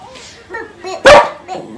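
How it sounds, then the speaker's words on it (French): A dog gives one loud, sharp bark close by, preceded and followed by softer whines and yips over a short moment indoors. "Donne-lui avant qu'il aboie, s'il te plaît."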